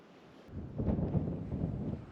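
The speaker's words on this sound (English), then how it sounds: "However, the wind is picking up." Wind picks up at Timberline Pass on the Ute Trail in Rocky Mountain National Park, a brief rushing gust buffeting the microphone, low and breathy, swelling after a quiet start and lingering.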